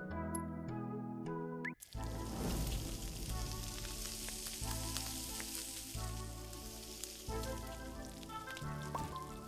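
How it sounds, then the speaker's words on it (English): Food sautéing in a video game cooking minigame, a steady bright sizzle running throughout, mixed over game music with a brief dip near the start. "Saute!"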